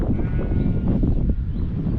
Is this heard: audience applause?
no